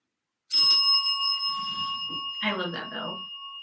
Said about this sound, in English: So I'm going to go ahead and pop down the bell.